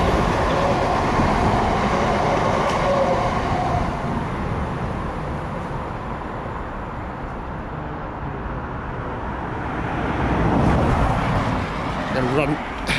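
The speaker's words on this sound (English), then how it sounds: "There's a train." A train runs along a railway line at a junction where an old branch joins, heard as a steady rumbling roar that swells and fades over several seconds, with outdoor wind and road traffic mixed in.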